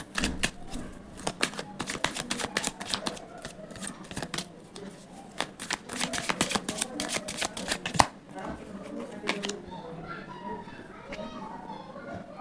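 Tarot cards being shuffled in the hands, a fast dense run of crisp riffling flutters that stops briefly and starts again, then eases into quieter handling as cards are drawn, with a voice talking underneath.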